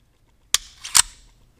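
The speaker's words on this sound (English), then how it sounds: "release the slide, and remove it" A pistol slide released and pulled off the frame: one sharp metallic click, then a brief scraping slide and a second bright click, close and crisp in a quiet room.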